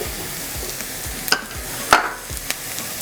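Leeks, onions and celery fry in a pan, a soft continuous sizzle broken by several sharp scrapes and clacks of stirring, fairly quiet and close with no voices.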